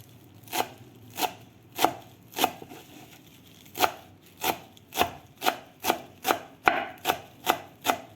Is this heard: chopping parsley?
yes